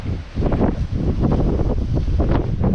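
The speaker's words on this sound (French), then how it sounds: "on a 15 nœuds de vent sur le port de Corona" Strong 15-knot gusting wind at the harbour of A Coruña buffets the microphone in heavy, rumbling bursts, with a faint wash of water underneath and no voices.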